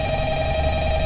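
A phone ringing in the video game Five Nights at Freddy's, a steady electronic ring tone held loud and continuous throughout with a low background hum.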